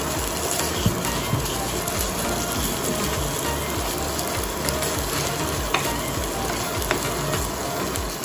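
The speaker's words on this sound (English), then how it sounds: "Now we'll go ahead and grill this beautiful pickle patty." Pickled chicken burger patty sizzling on a grill, a dense continuous hiss and crackle with occasional sharper pops, close and steady throughout.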